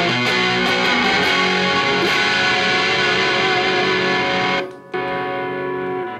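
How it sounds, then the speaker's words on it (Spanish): Electric guitar driven through an overdrive pedal from the Dunlop, MXR and Way Huge range, playing dense sustained chords loudly and steadily, with a brief dropout near the end before the crunchy tone resumes. "Escuchan la diferencia, ¿no? Esto es un overdrive."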